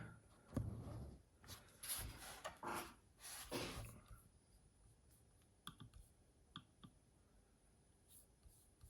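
Keys on a 2015 MacBook Retina keyboard clicked one by one during a keyboard test, crisp scattered taps, close and fairly quiet, a quick burst early then sparser single clicks.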